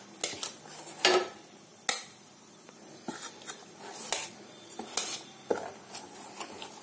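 A spoon or ladle working through buttermilk dosa batter in a steel vessel, giving irregular metallic clinks and scrapes with soft wet stirring between them, close up and fairly quiet, with no talk.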